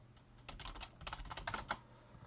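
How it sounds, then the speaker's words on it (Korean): Quick run of computer keyboard key presses during a Tales Weaver PC game session, a few soft clicks then a brighter cluster of snappy taps, close and alone with no talking. "그 키보드의 쉬프트 키를 누르고 그 캐릭터를 딱 클릭하면"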